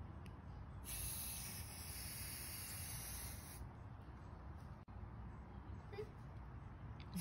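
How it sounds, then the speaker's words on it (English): A loud, steady hiss of spray paint runs for a few seconds, then stops, leaving background noise and faint movement. "we're about to spray."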